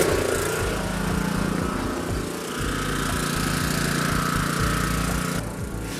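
A loud power tool countersinks into a timber joint on a scaffold, running continuously with a rough, buzzing drone and stuttering bites into the wood, then cutting off near the end.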